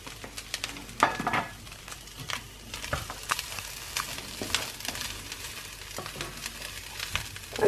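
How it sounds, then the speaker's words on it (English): Quorn chilli mixture frying in a pan with low-fat cooking spray, a steady soft sizzle broken by occasional clatters and scrapes of stirring, close and moderately quiet. "I'm just going to fry this for a little bit, a couple of minutes I think."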